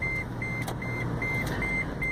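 A car's warning beep sounds inside a taxi, a steady series of evenly spaced chimes over low engine and road rumble.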